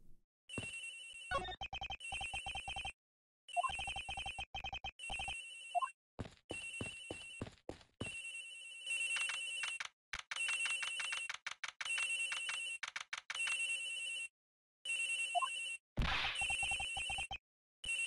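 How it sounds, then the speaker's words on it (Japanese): A mobile phone ringtone rings in the Ace Attorney Investigations video game, a bright electronic melody repeating in choppy bursts with brief gaps, loud and close, alone without talk. "着信音は CLM で鳴っているよね"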